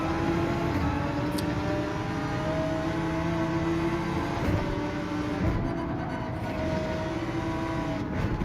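Race cars in the Gran Turismo 7 video game, an Audi R8 and Ford GT among them, drone steadily with sustained engine tones and road roar throughout, no speech.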